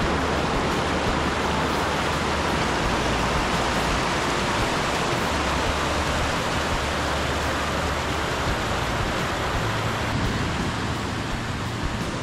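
Water rushing down through a rocky gorge, a dense, loud, continuous roar of falling and flowing water with no pauses, close by and alone.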